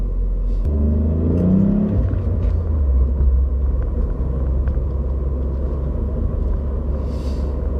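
A 2019 Ford Fiesta ST-3 in metallic grey gives a loud, deep engine rumble with a brief rev swell early on, then settles into a steady close, heavy drone with no talking.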